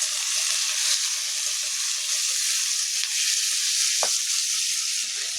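Potatoes and onions frying in oil for a pointed gourd and shrimp dish give a steady, close sizzle with a soft stirring scrape near the four-second mark, and no one talks.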